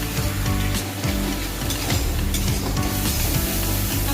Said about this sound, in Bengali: আমি মশলাটাকে ভালো করে কষিয়ে নেবো